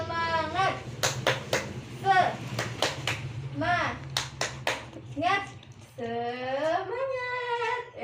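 Fifth-grade children in a classroom clapping in a rhythmic cheer pattern, sharp hand claps in a quick sequence interspersed with children's chanting voices, ending in sustained sung voices.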